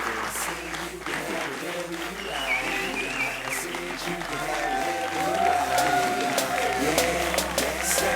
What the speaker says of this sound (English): Please give up big applause for these guys.